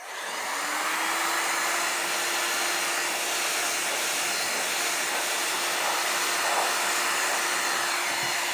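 Heat gun blowing steadily on epoxy resin, a continuous loud airy whoosh with a faint high whine, close and unbroken, no talking.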